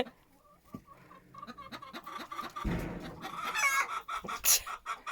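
A rooster clucks repeatedly and loudly at close range on a newly bought farmstead, with one louder squawking call near the end.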